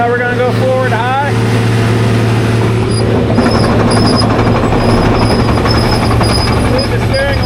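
A John Deere 700J crawler dozer drives forward in high gear, its engine and drivetrain a loud, steady drone with a rising whine, while a voice talks briefly at the start.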